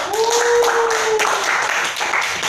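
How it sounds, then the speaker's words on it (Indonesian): Students in a classroom clap hands for classmates who came to the front, a brief patter of irregular claps from a small group, overlapping a voice at the start. "Tepuk tangan dulu untuk yang udah maju."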